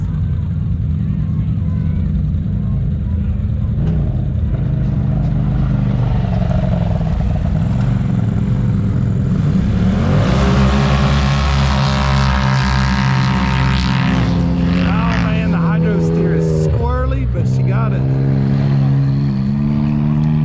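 A rock crawler with hydro steering revs and accelerates hard on a drag strip, its engine droning low and then rising into a loud, roaring climb midway before easing, with people talking over the run.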